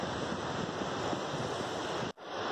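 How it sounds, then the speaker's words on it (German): Ocean surf washes steadily onto a Florida beach, a dense, continuous roar with wind across the microphone and a brief dropout near the end. "das Rauschen der Wellen höre"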